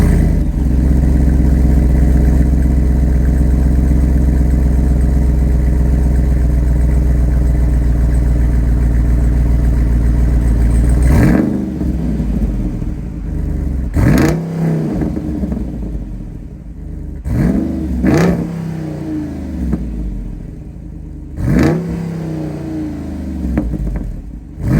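A 2021 Jeep Wrangler Rubicon 392 with a 6.4-liter Hemi V8 and active exhaust idles with a deep, loud rumble, then gives four sharp revs that rise and fall, close by with no talking.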